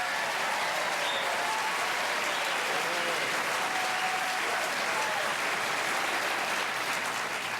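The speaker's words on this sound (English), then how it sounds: "Boy, do I know how to get cheap applause?" Studio audience applause on a 1987 late-night talk show broadcast, a broad, even roar of many hands clapping continuously and fairly softly, sustained throughout with no pauses and no talking over it.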